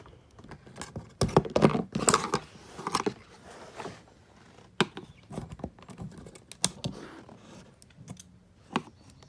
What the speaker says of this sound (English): You'll hear them give almost, like a clip.